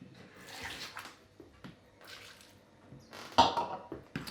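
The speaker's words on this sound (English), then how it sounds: "now I'm just going to add a bit of water as well to it" Water splashes and trickles in short bursts into a blender, with a louder gush near the end, close by and fairly quiet.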